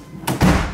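A BMW E36 coupe's car door swings shut with a single solid, close thunk, alone and brief.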